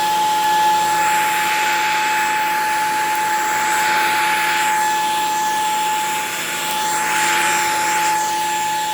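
A Shark stick vacuum cleaner runs at a lowered speed setting, producing a constant loud motor whine with a steady tonal hum and airflow rush that swells and eases slightly as it moves, close by, with no voices.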